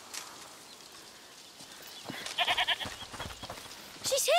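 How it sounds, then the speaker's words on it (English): A goat in the video game A Plague Tale: Requiem bleats a few times, close and fairly clear, after a stretch of quiet ambient noise with some soft knocks. "Listen. Is that the goat he talked about?"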